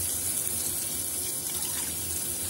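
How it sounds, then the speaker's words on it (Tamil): Coconut milk pours steadily into a pot of rice as part of a coconut milk rice dish, a continuous close gushing liquid sound with no voices. "அதுக்கு வந்து அதே கிளாஸில் 4 டம்ளர் அளவுக்கு தேங்காய் பால் ஊற்றினா போதும்"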